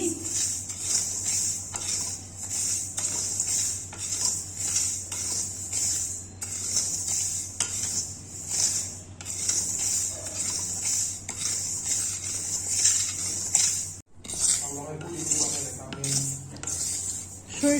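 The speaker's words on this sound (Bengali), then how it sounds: "সরিষা কিন্তু আমি একদম লো হিটে রেখে তারপরে কিন্তু ভেজে নিচ্ছি" Mustard seeds of two kinds dry-roasting in a pan on low heat, with a steady soft crackle and hiss under repeated scraping and clinking of a spoon stirring against the metal.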